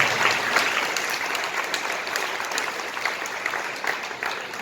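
Steady applause from an audience at a legal talk, dense clapping holding at an even level throughout with no break.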